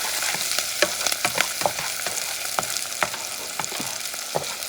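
Garlic sizzling in a pan of hot oil for a coconut curry lamb, a steady close hiss broken by irregular crackles and the scrape of stirring, with no voices.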